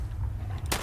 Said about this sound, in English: That felt like a bigger explosion than should have happened.